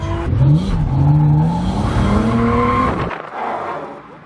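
At a Halloween drift night, a car drifts past with a loud, sustained tire squeal over a roaring engine, rising and sliding in pitch before cutting off abruptly, followed by a fading engine rumble.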